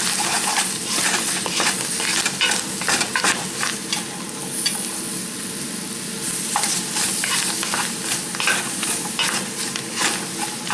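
Chicken meat frying in a pot for gumbo while being stirred, giving a loud, continuous sizzle broken by frequent scraping strokes.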